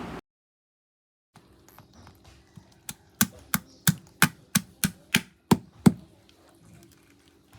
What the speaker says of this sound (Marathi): त्या कारणाने ह्याने चिंबोऱ्या कापायचं काम हातात घेतलं होतं.